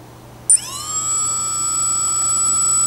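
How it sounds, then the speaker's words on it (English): A QAV250 quadcopter brushless motor spins up during calibration, a sudden click followed by a steady, high-pitched whine that rises briefly and then holds at an even pitch, close and moderately loud with no talking. "we can hear that motor spinning"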